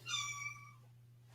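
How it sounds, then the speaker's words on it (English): A cat gives one clear, close meow with a falling pitch, fading out over a steady low electrical hum indoors. "Oh, the kitty came back."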